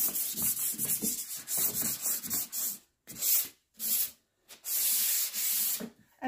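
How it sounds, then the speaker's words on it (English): Light single-pass sanding with a 220 grit sanding sponge on a jewelry armoire during a makeover, giving close, steady rubbing strokes in repeated bursts with short pauses between passes. "This is a 220 grit sanding sponge. And I'm just going to do a light brushing."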